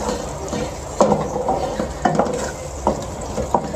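Arvi (taro root) masala is stirred in a pan with a spoon: steady close scraping, with a sharper stroke roughly every second over a faint sizzle.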